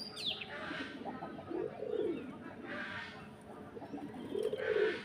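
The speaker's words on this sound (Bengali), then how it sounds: "তো দেখেন কবুতরগুলো কিন্তু ব্যক্তিছে," Pigeons coo repeatedly at a pigeon farm in the morning, several soft rolling calls swelling in turn, with scattered chirps and a steady background of birds.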